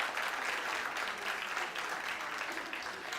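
Audience applause at a TEDx event at Nile University of Nigeria, a steady, even wash of many hands clapping that holds at moderate level throughout, with no clear voices over it.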